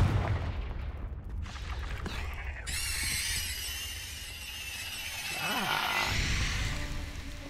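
Confringo fire spell blasts in the video game Hogwarts Legacy, loud fiery bursts and bright crackling whooshes that roll on for several seconds, then a softer swooping effect and a rumbling tail.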